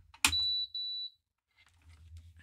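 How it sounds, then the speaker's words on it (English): A Thermal Cinch binding machine, just plugged in and switched on, gives a single clear electronic beep after a soft click, a steady high tone lasting under a second, followed by quiet room noise. "so you heard it beep"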